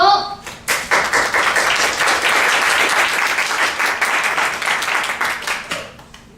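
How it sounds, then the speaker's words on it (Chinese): A church congregation at a Saturday worship service breaks into dense, sustained clapping and applause, loud and close, tapering off at the end, with voices mixed in. "给他热烈的掌声好不好？ 热烈哦，热烈哦，拍手！"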